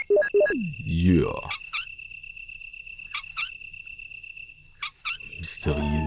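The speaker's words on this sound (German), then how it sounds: "Mysteriöses, unheimliches Quietschen von der Kurbel." Creaky crank turning in Resident Evil, a squeaky, warbling groan with rising and falling pitch in the first second and a half, then quieter eerie tones and faint clicks in a hushed room.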